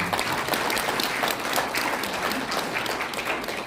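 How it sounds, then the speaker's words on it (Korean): An audience at a Christian citizens' forum and press conference in Incheon gives a lecturer a sustained round of applause, dense steady clapping filling the room from start to finish with no voices over it. "박수 한번 보내주시면 감사합니다"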